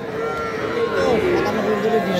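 A bull calf moos close by with a long, wavering bellow at a cattle sale, while people talk faintly in the background.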